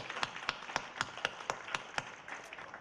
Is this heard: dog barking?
no